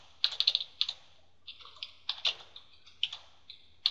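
Quick keyboard typing on a computer, a burst of crisp key clicks followed by sparser, irregular taps, fairly close and with no talking.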